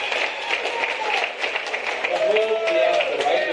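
Audience applause at a comedy club set, a steady patter of many hands clapping filling the room, moderately loud and sustained, with some crowd noise mixed in.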